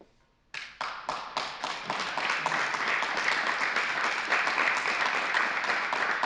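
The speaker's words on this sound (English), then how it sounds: "give them a round of applause, please?" An audience at an annual meeting applauds the staff, starting with a few scattered claps that swell within two seconds into full, sustained clapping.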